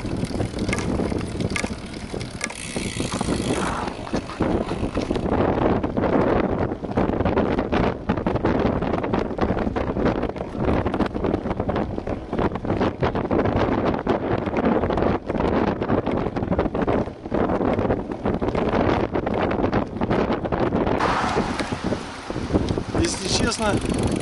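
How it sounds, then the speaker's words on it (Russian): Strong wind buffets the microphone while riding a bicycle on a long-distance tour in Belgium, a loud continuous roaring rumble with gusty surges throughout and brief easing near the end. "Ветер, конечно, лучше, чем дождь, но, бля, он тоже надоедает."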